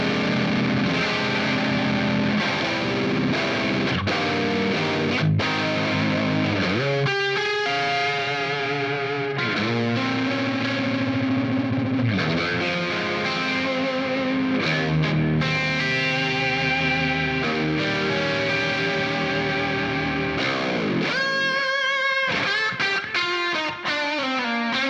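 Electric guitar played through a Fender Pugilist distortion pedal on its B-side setting, giving a thick, heavily driven tone with sustained chords and riffs that fill the whole stretch at steady, loud volume, with no talking.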